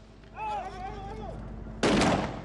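A gas gun fires a gas canister during a SWAT team competition in Dubai, producing one sharp, loud burst that follows a short stretch of a voice speaking.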